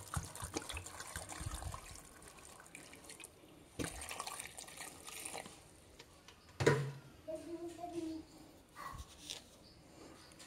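Water poured into a cooking pot of trimmed jackfruit pieces in a home kitchen: a faint, uneven splashing and trickling over quiet background noise, with a brief louder clatter midway and soft talk at moments.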